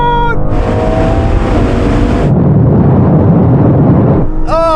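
Several sports cars, a BMW M2, Audi RS3, Mercedes-AMG A45 S and Porsche Boxster GTS, launch in third gear in a rolling half-mile drag race from 50 mph. Engines roar loudly and climb in pitch, with brief voices at the start and end.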